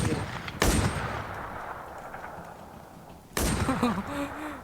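Two sharp, loud gunshots ring out in a Toy Story-themed online shooter game, spaced a few seconds apart, each followed by a short decaying tail, with a faint voice under the second.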